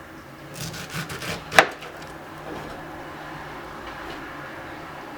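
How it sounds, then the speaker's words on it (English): A sharp knife slices through fruit on a cutting board, a few soft scraping strokes followed by one crisp, loud chop up close, then quiet board noise. "grab your knife really steadily, put your fingers here and just cut through straight."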